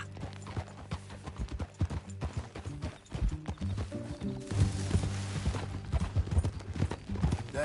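Horse hooves clop while riding in Red Dead Redemption 2: a brisk, uneven stream of close hoofbeats over a low tonal music bed, growing louder and denser midway.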